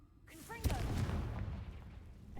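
A Confringo fire spell blasts off in a Harry Potter video game, a sharp near boom with a rising whoosh that settles into a rumbling tail.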